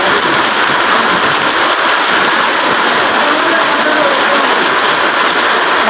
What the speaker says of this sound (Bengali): এই যে এখানে কি সুন্দর বৃষ্টি হচ্ছে